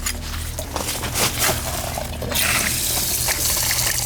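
Steady rush of water running from a leaking outdoor shower valve, growing louder and brighter partway through, with a few knocks and clatters early on.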